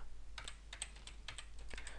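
Rapid typing on a computer keyboard: quick, uneven clicks of keys pressed in short bursts, close and clear over a steady low hum, with no talking.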